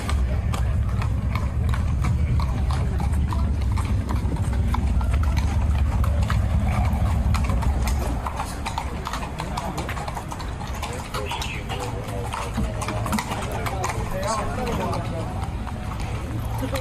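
Mounted police horses clip-clop on a city street in a steady, ongoing rhythm of hoof strikes amid crowd noise and talking voices, loud and continuous throughout.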